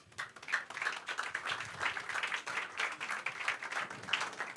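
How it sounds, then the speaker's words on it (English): Conference audience clapping for a pastor, a steady, fairly faint wash of many hands applauding with no voices over it. "can we clap our hands better for Pastor?"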